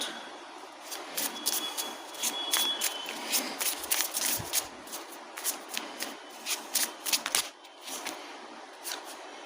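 Tarot cards being shuffled and pulled by hand, a steady run of crisp riffling and flicking bursts lasting throughout, close and fairly quiet with no talking.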